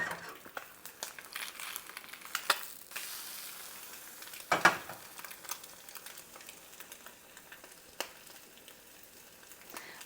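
Eggs fry quietly in a pan with a soft, steady sizzle, broken by occasional crackles and a few louder pops and scrapes.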